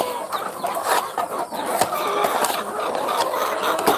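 Chickens cluck in a dense, continuous chorus at a farm in Aklan, Philippines, with overlapping calls and scattered sharper squawks filling the scene at steady loudness.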